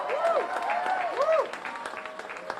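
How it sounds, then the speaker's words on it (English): An audience applauds a politician's family, a steady patter of clapping under a cheering voice that fades after about a second and a half into quieter scattered claps. "In particular, clap for my family."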